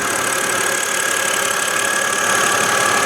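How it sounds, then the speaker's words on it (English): A 2008 BMW 528xi six-cylinder engine idling steadily, a continuous even hum close by with no talking over it. "And you can hear, I'll shut up for a minute and I'll let you listen to it idle."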